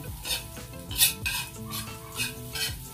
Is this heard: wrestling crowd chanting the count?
no